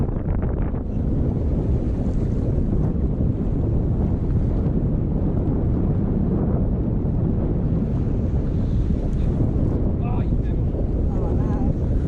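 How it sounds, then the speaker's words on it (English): Strong wind roaring across the Clarence River during a bass fishing tournament, a loud continuous rumbling buffet on the microphone lasting throughout, with water and boat noise mixed in. "It's windy!"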